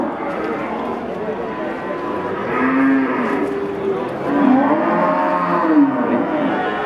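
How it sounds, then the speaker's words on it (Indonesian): Jumbo cattle moo repeatedly in low, drawn-out calls amid a noisy crowd at a cattle market in Pati, with people chattering throughout. "Ada sapi jumbo."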